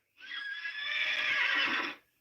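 A horse gives one loud, drawn-out whinny lasting about two seconds, close and clear, rising sharply and then fading, with no talking over it.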